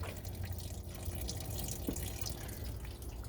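Hot coolant drains from a 2014 Camaro SS 1LE in a steady, faint trickle and splatter of liquid, with an even flow and no talking.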